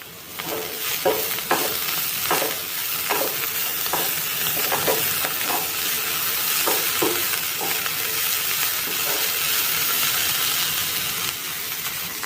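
Bitter gourd pieces fry in a pan with a continuous loud sizzle, punctuated early by a regular series of spatula scrapes and stirs that fade into a steady hiss, with no one talking.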